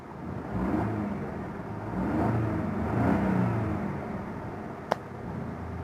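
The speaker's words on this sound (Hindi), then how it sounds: "अब देखिए मैंने इंजन को स्टार्ट कर दिया" A Hyundai Eon car engine, low on engine oil, idles at a steady low rumble with a slight rise and fall, and a single sharp click cuts in near the end.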